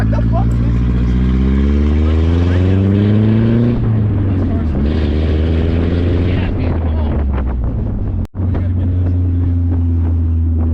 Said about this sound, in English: Give me a rev, Tyson.